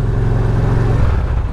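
An old motorcycle being ridden, its engine droning loudly and steadily up close with a rough low rumble and a slight shift in pitch near the end.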